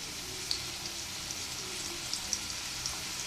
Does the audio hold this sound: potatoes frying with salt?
yes